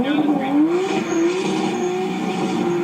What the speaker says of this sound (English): I think they were telling me to do a burnout.